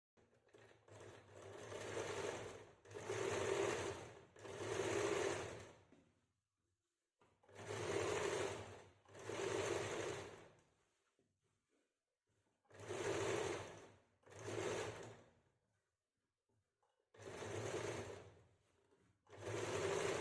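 Sewing machine stitching kameez fabric, quiet bursts of rapid whirring in short runs, about eight separate passes with pauses of near silence between them.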